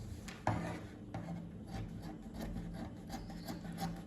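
Cutting out a paper pattern for a bell sleeve gives a steady rough rubbing and scraping, close and moderately loud, with one sharper snip near the start and no talk.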